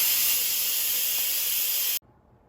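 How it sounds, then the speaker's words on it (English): Loud, steady steam hissing from an Instant Pot pressure cooker's quick release, a constant broadband rush that cuts off abruptly after about two seconds. "so let's quick release the steam."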